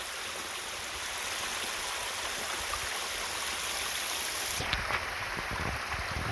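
Water rushes steadily over rocks after a storm, tumbling down an 8 to 10 foot drop in a constant broadband roar, close and uninterrupted.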